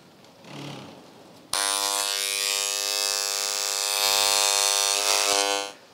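An engraving tool buzzes steadily on a matte black panel meant for a Van Diemen RF 85 bezel, a loud, even electric whine starting abruptly and running for several seconds before cutting off.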